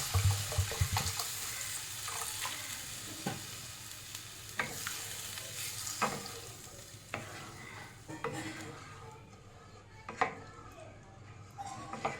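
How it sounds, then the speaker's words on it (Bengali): Water goes into sizzling masala for a Kashmiri rista mutton ball curry, a soft steady frying hiss with occasional clinks and stirring scrapes, faint and close. "এর মধ্যে আমি জল দিয়ে দেবো।"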